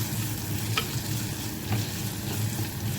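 Garlic, onion and green chili sauté in a pan with steady crackling sizzle and a few light stirring scrapes, close and even for a few seconds.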